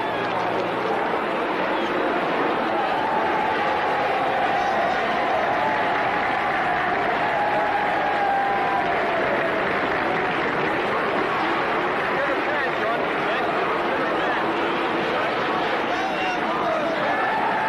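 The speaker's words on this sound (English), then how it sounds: "the crowd goes wild" A grandstand crowd at the British Grand Prix at Brands Hatch roars and applauds as James Hunt's repaired race car returns to the grid. The dense, steady noise persists throughout, with a voice talking over it.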